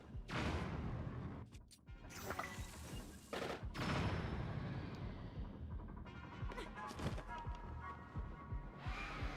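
Bombs burst in a Zelda video game, a dense run of loud blasts and crashes filling the mix, with game sound effects layered throughout.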